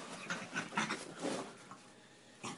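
A French Bulldog plays excitedly, making a quick run of short panting breaths and snorts that come in bursts, close up, with a brief pause before one last huff.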